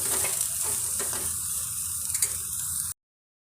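Chopped coconut is fried and turned in a pan for ridge gourd peel chutney, a close, busy sizzle with stirring scrapes that lasts about three seconds before cutting off abruptly.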